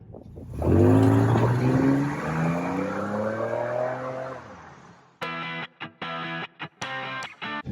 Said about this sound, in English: I got a V6 engine out front and I got a stainless exhaust out back